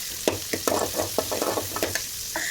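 Oil sizzles softly in a pan as finely chopped onions fry while a utensil scrapes and stirs in quick, uneven strokes, close by and without talk.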